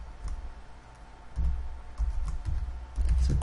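Someone types a command into an input box on a computer keyboard, a loose run of soft, close keystroke clicks with a few louder bursts, no voices.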